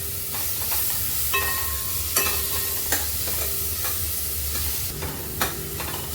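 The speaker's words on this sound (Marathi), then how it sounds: "हलवून घेऊया." Tomatoes fry in a pan with a steady sizzle and hiss while a spoon stirs them, giving several sharp scrapes and taps against the metal, close by and with no talk.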